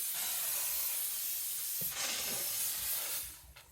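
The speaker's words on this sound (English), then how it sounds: "just press the button to release steam when desired" A BISSELL SteamShot handheld steam cleaner, used on a stove top, releases a steady, close hiss of steam that fades and sputters slightly toward the end.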